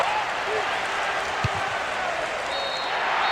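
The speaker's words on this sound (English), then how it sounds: "The ref ends the game, and a huge roar from the crowd" Steady crowd roar from a PES 6 football video game match at full time, a broad continuous wash of cheering held at a constant level with commentary running over it.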